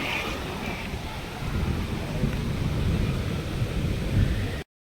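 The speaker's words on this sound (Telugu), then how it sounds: "మళ్ళీ వర్షం." Rain falls steadily at a forest picnic spot while low thunder rumbles underneath, a dense, moderately quiet wash of sound that swells slightly toward the end and then cuts off abruptly.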